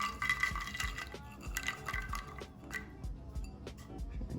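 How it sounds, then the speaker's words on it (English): Pecans tumble into melted butter in a baking dish while a pecan cobbler comes together, giving a run of close, light clinks and scattered patters against the dish with no voices. "our cup of pecans, you're just gonna sprinkle them in"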